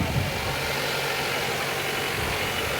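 A decorated tractor's engine idles steadily at a Christmas parade in Kingston, a loud, even mid-to-low rumble continuing without voices.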